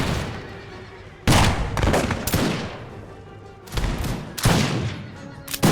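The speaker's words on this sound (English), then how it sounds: "the line infantry actually lines up behind their own auxiliaries and starts firing into the back of them" Musket volleys from line infantry in an American Revolution battle video game, loud crackling bursts of massed gunfire breaking out repeatedly over a rumbling battlefield din.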